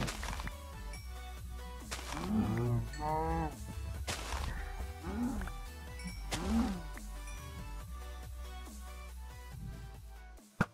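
Cows moo several times in the video game Minecraft, drawn-out wavering lowing calls spaced a second or two apart over a steady low background hum, fairly close and clear, no talk.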